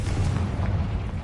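A Confringo spell explosion in the Hogwarts Legacy video game, a loud, dense low boom that rumbles through its short length without a clear break.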